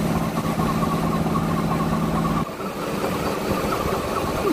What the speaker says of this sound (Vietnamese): tiện bắn lề